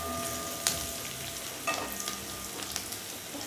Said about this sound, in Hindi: हल्का ब्राउन होने तक हम लहसुन को अच्छे से भून लेंगे।